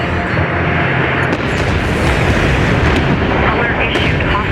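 Heavy cannon fire and explosions from the sci-fi desert strategy game Homeworld: Deserts of Kharak form a dense, loud, continuous barrage of booms and blasts, with faint voice traces mixed into the din.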